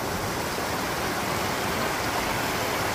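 Mountain creek water rushes steadily and loudly close by, a continuous broadband hiss of flowing water with no pauses or other sounds standing out.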